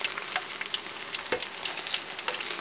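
Peanut rempeyek crackers fry in hot oil, giving a steady close bubbling sizzle with a few sharper crackles and pops scattered throughout.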